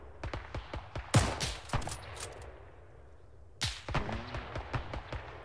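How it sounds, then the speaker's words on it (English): Gunfire in the ArmA 3 World War II game, with dense volleys of sharp shots and heavy bursts around the one- and 3.5-second marks, scattered reports from the rear between them, near and loud. "Definitely still taking fire from the rear as well."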